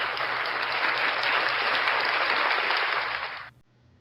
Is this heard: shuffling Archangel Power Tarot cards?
no